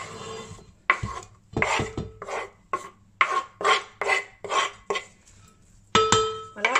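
Garlic cloves pressed in a kitchen press, a run of short rasping squeezes and scrapes in an uneven rhythm, close and clear with brief gaps between strokes.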